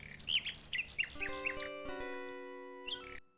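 A little bird in King's Quest 6 chirps in a quick series of bright tweets, then gives way to sustained tonal game music that fades out.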